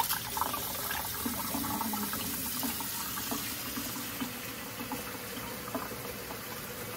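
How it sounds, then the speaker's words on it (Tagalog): Water pours and splashes into a foot spa basin at home, a steady close trickling and gurgling fill that continues without pause. "Lagyan natin ng tubig."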